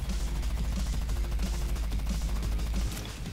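Rapid automatic gunfire from the General Supreme character in a Plants vs. Zombies shooter game, a fast steady stream of shots repeating for several seconds at moderate level.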